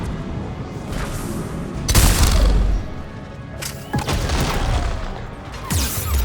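Gunfire and heavy impacts in the sci-fi shooter game Mass Effect 3 during a fight against a mech, loud bursts around two and four seconds over a continuous rumble of battle, no voices.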